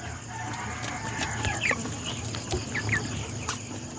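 Broiler chickens and chicks on a poultry farm, with a rooster crowing and hens clucking over a steady barn hum and scattered chirps, fairly close and continuous.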